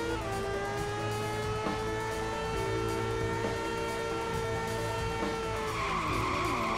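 A go-kart in the video game Driv3r races with a steady droning engine whine, and its tires squeal in long skids through the turns, loud and continuous with no talking.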